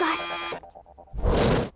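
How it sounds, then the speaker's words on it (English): A door buzzer sounds in an animated Bratz movie: a loud, harsh electronic buzz that cuts off, a pause with a faint tone, then a second noisy burst. "And then there's a buzz."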